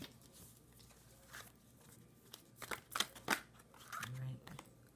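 Cards are riffled and shuffled in quick bursts of crisp flutter, close by and soft, with a voice talking quietly underneath.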